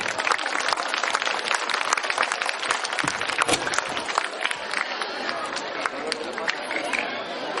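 A school audience at a peace-day assembly gives the school director sustained, dense applause, with murmured chatter mixed through the clapping.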